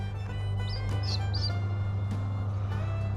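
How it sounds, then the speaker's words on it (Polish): A few thin, high peeps from newly hatched chicks, one an Australorp, sound briefly over a steady low mechanical hum, close by and fairly faint. "Właśnie wykluły się dwa kurczaki."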